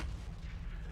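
Artillery guns firing in the Factorio video game, a continuous low rumbling boom that stays heavy and steady through the whole second with no pauses or talk.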